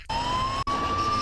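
A police car siren wails loud and close, one steady rising tone held without pause apart from a brief cut partway through.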